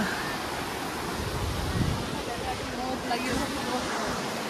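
The Jhumsa river flows past near an old crowded footbridge, giving a steady close rushing wash of water mixed with wind buffeting, with some faint crowd noise in the background.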